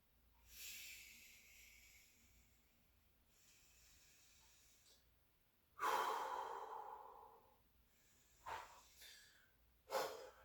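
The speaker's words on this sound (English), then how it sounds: "we're going to take 3 deep breaths and 3 exhales to come up slowly" Slow, deep breaths during a yoga session: several long airy inhales and exhales, the later ones stronger and sharper, heard close and alone in a quiet room.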